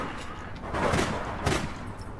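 Muffled gunfire in the APB Reloaded urban shooter game, a couple of dull bursts rising over a constant noisy background.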